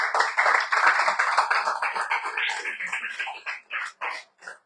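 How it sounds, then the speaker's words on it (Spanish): A church congregation clapping in praise to the Lord, a thick burst of applause at first that thins into scattered claps and dies away to a few separate hits by the end. "¿Quién le da un aplauso al Señor?"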